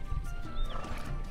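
Horse neighs and hooves clop in the Alicia Online video game, a single short whinny rising over a steady thud of hoofbeats, fairly close and moderately loud with no talk.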